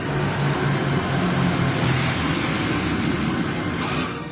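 An inbound airliner landing on runway 02, a steady loud engine roar with a sustained drone that holds throughout and eases slightly toward the end, with no voices.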